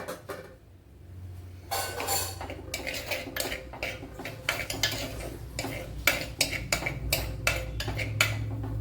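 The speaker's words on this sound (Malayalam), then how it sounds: "ഇവിടെ ഒരു ചട്ടി വെച്ച് കൊടുത്തിട്ടുണ്ട് അതിലേക്ക് മൂന്നാലല്ലി വെളുത്തുള്ളി ചെറിയ പീസ് ഇഞ്ചി ഒരു പച്ചമുളക് ഇത്രയൊന്ന് വഴറ്റിയെടുക്കാം" Garlic, ginger and a green chilli sautéing in a pan, heard as a quiet fry beneath a busy run of metal spoon clinks and scrapes against the pan, close and without speech.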